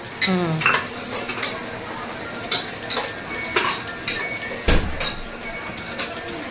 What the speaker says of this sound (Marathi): ह्याला व्यवस्थित असं विस्क करून घ्या, मिक्स करून घ्या